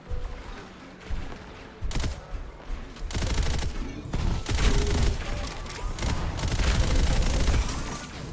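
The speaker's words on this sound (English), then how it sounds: "That is the rifle, never mind, it's not a shotgun." Sustained rifle fire in the arena shooter Diabotical, loud rapid shots rolling together in a dense barrage with little speech.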